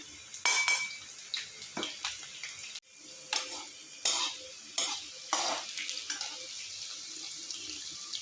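Cumin, bay leaves, garlic and green chilies fry in a pan, a soft sizzle broken by repeated scraping stirs, each stroke a distinct swish at close range, with no talking.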